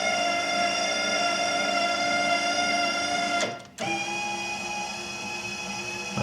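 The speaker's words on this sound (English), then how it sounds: "I have another actuator on the bottom there." An electric actuator on the bottom of a Craftsman snow thrower mounted to a tractor cab hums steadily, cuts out abruptly, then resumes with a slightly different whine; close and continuous, with no talk.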